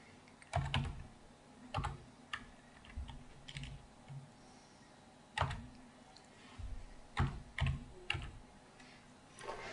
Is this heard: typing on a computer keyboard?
yes